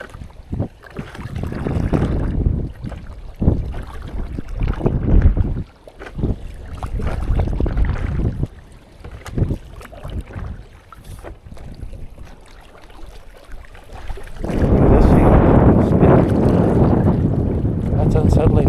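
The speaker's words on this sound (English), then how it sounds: "That's unsettling when the wind starts pushing at your back like that" Wind buffeting a boat out on Paul Lake in early May, loud gusty roar and microphone rumble that rises and falls, swelling strongest near the end, with scattered knocks and brief voices in between.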